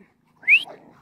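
Dogs running around outside a newly bought house give one short, high whining whimper, rising then falling, at close range, followed by quieter low sounds.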